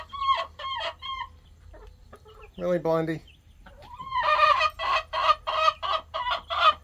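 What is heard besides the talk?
chickens clucking in a coop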